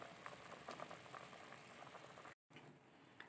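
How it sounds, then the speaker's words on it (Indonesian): Goat meat boiling in a pot on a stove gives a steady, faint bubbling and popping simmer with a brief dropout near the end, with no talking. "Ini sudah hampir mendidih lagi ini."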